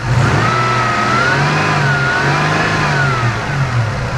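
A Toyota engine with a mechanical fan clutch is revved as its idle is raised, giving a steady, close, loud engine drone whose pitch wavers slightly throughout, with no talking.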